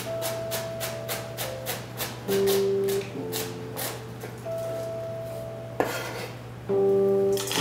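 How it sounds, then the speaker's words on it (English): A sharp knife julienning a vegetable on a cutting board, with steady rapid chopping taps in bursts and a low background hum, clearly heard with no talking. "with a wonderful knife, I'm just going to julienne"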